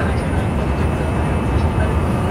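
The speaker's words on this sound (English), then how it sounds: "On train again." Steady, loud low rumble of a train interior while riding, a continuous broadband roar with rail noise and faint murmuring voices underneath.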